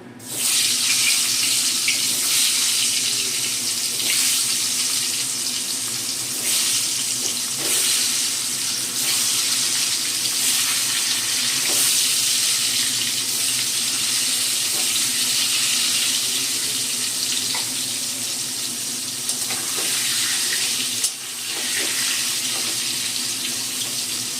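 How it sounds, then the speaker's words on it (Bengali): Potato pieces frying in oil in a pan for an egg curry, a steady dense hiss of bright sizzling held at an even level throughout, with faint clicks and bumps of the pan now and then. "এবার আমি আলুটাও ভেজে নেব।"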